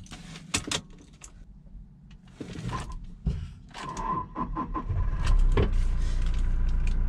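Inside a second-hand car with a manual gearbox, keys jingle and doors and switches click before the engine starts and settles into a steady idle.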